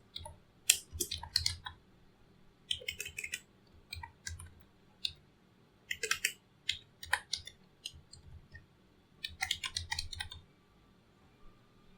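Computer keyboard typing while writing code to find a table element by ID: irregular bursts of crisp, close key clicks separated by short pauses, with no talking.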